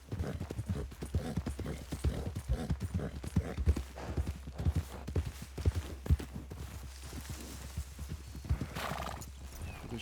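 Horse hooves clip-clop in a steady walking rhythm in the Red Dead video game, close and distinct, with a horse neighing and whinnying along the way.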